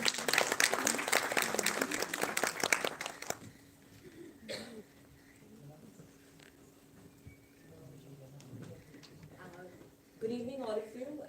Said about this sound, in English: So a big round of applause for Dr. Ghai.